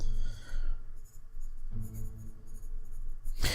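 Pencil scratching on a notepad, close and fairly quiet, with bursts of scribbling strokes and short pauses between them, ending in a louder brushing rustle.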